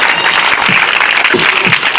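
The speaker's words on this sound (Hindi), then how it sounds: "ताली बजाते हुए प्रभु को महिमा दे।" A congregation at a healing crusade claps in praise, a loud, close burst of dense clapping with a few stronger beats that hint at a loose rhythm.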